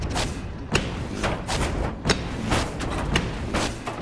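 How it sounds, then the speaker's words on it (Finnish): Explosive arrows burst one after another in the video game Sly 4 Thieves in Time, a rapid series of muffled thumps and booms about every half second over a constant rumbling bed. "Ampua lisää räjähdyn nuolia."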